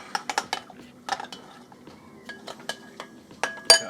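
Metal spoon stirring salted cucumber in a bowl for tzatziki, a close series of irregular clinks and scrapes against the bowl, with quiet gaps between strokes.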